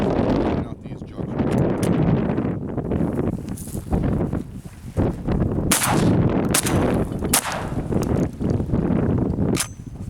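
A Smith & Wesson 1000 12-gauge shotgun fires high brass loads at jugs outdoors, with several sharp, loud blasts spread across wind noise while someone talks.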